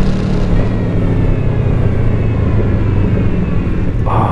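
An 8th-generation Honda VFR800F motorcycle fitted with an SC Project Conic exhaust burbles at close range, a loud, steady, deep rumble that holds evenly throughout with no talking.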